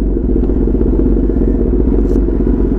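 A Kawasaki ZX10RR superbike engine rumbles loud and steady, with a continuous low throaty drone close by and no talk over it.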